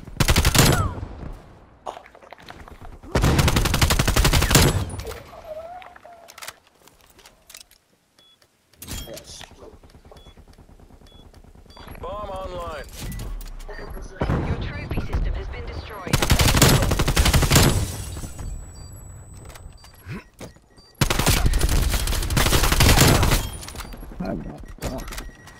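Video game gunfire in Call of Duty: Black Ops Cold War, loud close bursts of automatic fire recurring in several long volleys, with quieter stretches and faint voices between them.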